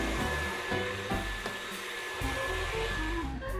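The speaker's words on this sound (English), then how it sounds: "And I'm gonna put in the KitchenAid." A KitchenAid stand mixer whips egg whites into meringue, a loud continuous motor whir with a slightly shifting, rhythmic churning tone and no talk.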